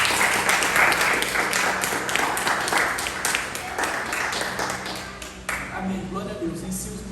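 A church congregation applauds steadily in a broad, dense wash of clapping, loud and continuous with many overlapping hands, while voices carry on over it.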